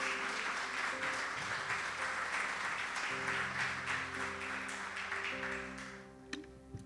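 An audience at a Spanish-language church service claps, a full, sustained applause that carries strongly for several seconds, then thins and fades out near the end while music plays softly underneath.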